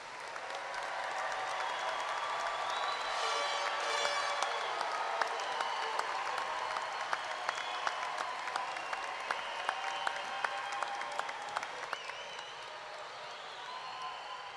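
An audience at Angelo State University's 2018 spring commencement applauds graduates, a broad, even wash of clapping in a large hall that swells and slowly thins, with scattered distinct claps toward the end.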